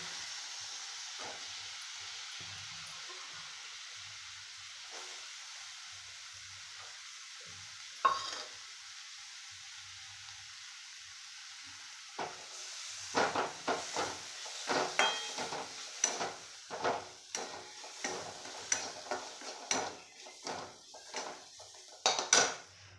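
Soaked lentils stir-fried in a pan for a wild greens vegetable dish: a quiet, steady sizzle at first, then increasingly frequent scraping and clinking of a spatula against the pan in irregular bursts, close and clear, with no talk.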